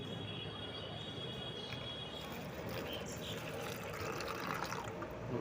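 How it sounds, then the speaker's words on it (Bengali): Water poured onto potted plants such as aloe vera, tulsi, lemon and chilli, a continuous splashing, trickling rush that stays close and fairly loud throughout. "জলটা দিয়ে দিলাম।"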